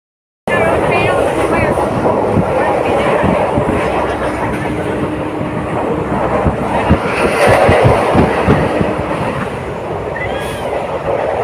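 A train at a railway station in Dibrugarh, Assam, gives a loud, steady rumble with clattering wheels throughout, and voices murmur faintly in the background.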